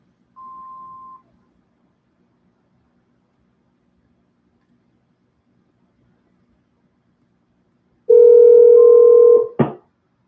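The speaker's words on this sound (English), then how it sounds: "Please leave a message after the tone." A short single-pitch voicemail beep sounds near the start, then after a long silence a louder, longer tone with harmonics plays, cut off by a sharp click, on a phone call to an expired-listing prospect.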